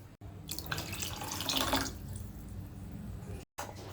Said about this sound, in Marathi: तुपात पाणी ॲड करून घेते.